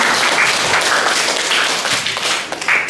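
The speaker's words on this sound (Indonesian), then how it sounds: "Tepuk tangan sekali lagi untuk kalian semua." Steady applause for new student council members at a school leadership training, a dense, even patter of many hands clapping close by throughout, with only a faint voice underneath.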